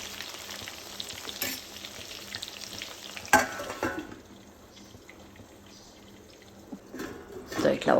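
Stuffed brinjals for a Hyderabadi gutti vankaya curry sizzle quietly in a pan as the lid goes on, with a sharp clatter, soft frying and occasional handling noises close by.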